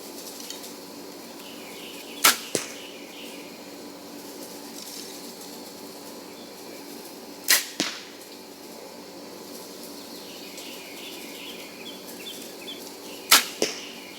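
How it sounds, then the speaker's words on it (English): Three separate archery bow shots on an Ohio hunting property, each a sharp crisp snap followed quickly by a second thwack, spaced several seconds apart over quiet outdoor background. "I could tell just by the sound how nice your bow is"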